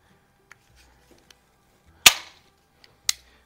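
A single sharp crack from a 10 meter target air pistol, a Feinwerkbau 65 or Beeman P3, close and loud, followed a second later by a second sharp snap, with faint clicks before.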